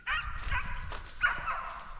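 A dog barks twice outdoors, apparently at a rabbit, each bark a sharp, fairly close burst with whining tails, over low rumbling background noise.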